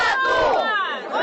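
Protesters in a small Russian single-industry town shout together, a loud, close chorus of raised voices chanting in unison in one brief burst.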